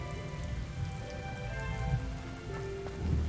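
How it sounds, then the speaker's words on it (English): Steady rain in the video game Hogwarts Legacy patters on a surface, a continuous close hiss of drops with a low hum beneath it. "Will it ever stop raining?"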